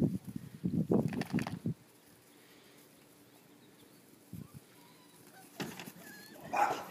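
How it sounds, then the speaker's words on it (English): Neighboring dogs bark at each other through a backyard fence in a flurry of loud, close barks and yips, followed by a quiet stretch and more barking later, with faint birds in the background. "Neighbor dogs out again, so they're antagonizing each other through the fence."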